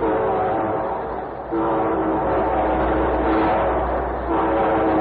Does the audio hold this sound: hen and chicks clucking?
no